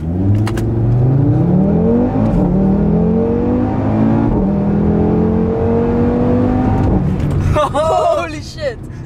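A car accelerates hard through a tunnel, its engine rising in pitch through several gear changes with a loud, echoing roar that builds, and voices talk and exclaim over it near the end.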